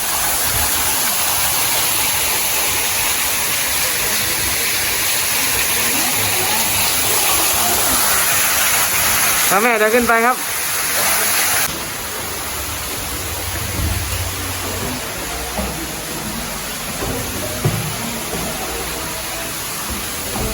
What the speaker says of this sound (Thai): เนี่ยจะเป็นน้ำตกไหลลงมาจากข้างบนนะครับเนี่ย น้ำจะใสมาก